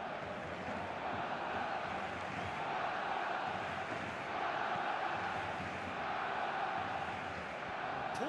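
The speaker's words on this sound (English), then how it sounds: "you can hear how the crowd are reacting to this too" Video game stadium crowd in a Champions League football match, Barcelona vs Olympiacos, a dense, continuous roar of massed voices that stays steady and loud throughout with slight swells.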